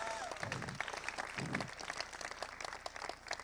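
Applause from a convention panel audience, a dense spread of claps at moderate volume with a couple of brief low murmurs or voices near the start.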